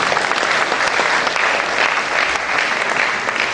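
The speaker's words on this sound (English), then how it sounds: "At least clap for us, please." Sustained audience applause at a medical school lecture event, a loud, steady wash of clapping that continues throughout.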